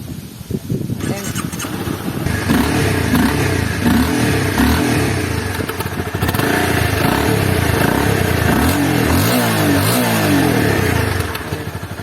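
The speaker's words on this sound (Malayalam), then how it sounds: "അത്യാവശ്യം ഡീസന്റ് സൗണ്ട് തരുന്ന ഒരു സൈലൻസർ ആണ്. ഞാൻ അതിന്റെ സൗണ്ട് ഒന്ന് ഇപ്പൊ കേൾപ്പിച്ചു തരാം" A Honda CBR 250R motorcycle engine revs loudly and close by, its aftermarket silencer exhaust roaring continuously with rising and falling throttle for several seconds.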